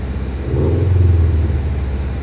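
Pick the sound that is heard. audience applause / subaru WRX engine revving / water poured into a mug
subaru WRX engine revving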